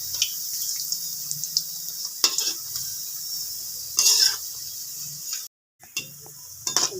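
Onion pakoras frying in oil over low heat, a soft steady sizzle with faint stirring clinks and brief louder bubbling bursts, close by, no talk.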